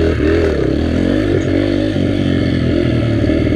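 A Yamaha TTR125 dirt bike engine revs in first gear, loud and close, with a continuous throaty drone and rising and falling pitch throughout.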